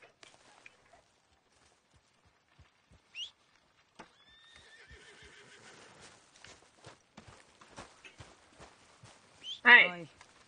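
A horse in the Red Dead video game neighs loudly near the end, after a stretch of quiet hoof clip-clops and scattered footsteps, with a few faint sounds in between.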